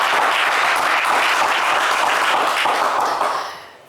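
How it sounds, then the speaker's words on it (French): Studio audience on a French TV game show bursts into loud, sustained applause that holds steady for over three seconds and then tapers off. "on vous applaudit également bien fort"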